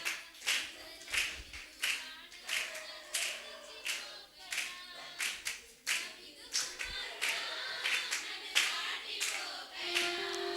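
A church congregation at a youth Christmas gathering claps steadily and energetically along with a song, a dense run of close, sharp hand claps continuing for about ten seconds with faint singing voices underneath.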